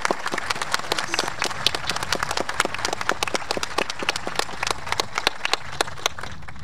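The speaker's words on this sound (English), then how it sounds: "let's give the band a round of applause again" At the Attleboro High School class of 2022 graduation, an audience gives the band scattered, uneven applause: sharp individual claps ring out one after another in a large, fairly quiet space.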